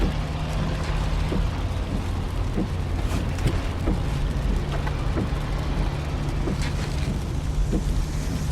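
Muffled car interior drone with steady road rumble, rain-like hiss and occasional soft knocks, no talking.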